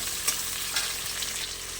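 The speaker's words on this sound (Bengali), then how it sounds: "এরপর তেলের উপরে জিরে, কাঁচা লঙ্কা, পেঁয়াজ কুচি দিয়ে দিলাম।" Cumin, green chili and chopped onion frying in hot oil, a bright continuous sizzle with a few light stirring clicks, close up and without speech.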